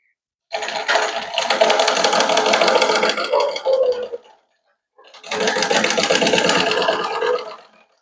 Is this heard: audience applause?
no